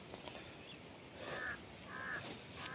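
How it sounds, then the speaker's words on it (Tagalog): A bird perched in a tree gives a few faint, distant caws at a farm in the countryside, spaced apart over steady background hiss. "Yung isang puno dyan, mayroong ibon yan, nakapatong."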